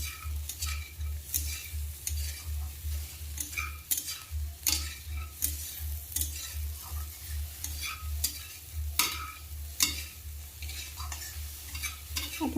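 Cumin, chili powder, turmeric and salt are stirred into an egg and tomato dish frying in a pan, with a steady low sizzle beneath repeated scraping and clinking of the spoon against the pan.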